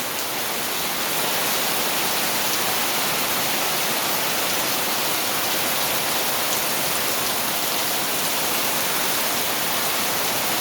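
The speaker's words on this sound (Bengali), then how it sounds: "আজকের বৃষ্টি সারা রাত বৃষ্টি হচ্ছে, থামছেই না।" Heavy rain pours down continuously in Sylhet Upashahar during an all-night storm that brings flooding, a dense unbroken roar of water with no pauses.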